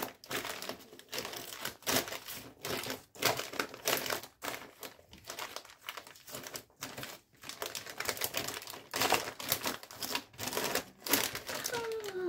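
Potato chips stirred and crushed with a spoon in a bowl, giving repeated close crunching and crinkling bursts in an uneven rhythm, with someone speaking at times.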